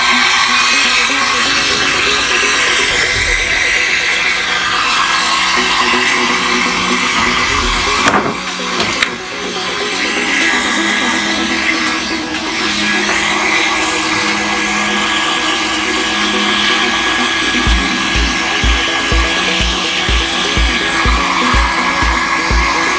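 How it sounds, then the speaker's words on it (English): A heat gun roars continuously at close range as it softens the adhesive on a Honda Scoopy scooter's headlight, a loud, airy blowing with small changes in tone and no talking. "I have a heat gun here."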